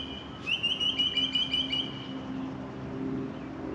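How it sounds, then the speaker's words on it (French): An Australian bird gives a short run of bright, repeated chirping calls over the hum of an airport boarding area, clear at first and then gone, leaving the steady background drone. "Ça c'est un oiseau d'Australie ça."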